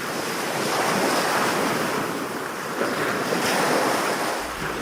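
At dawn on the shore at Cap-Haïtien, where fishermen start their day, ocean waves roll in as a steady, loud surf wash with gusty wind noise throughout.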